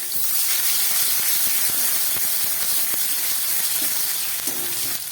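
Onion and tomato sizzle steadily in hot leftover fish-frying oil tempered with black cumin (kalonji), a dense continuous hiss with small crackles and faint stirring clicks, close and alone.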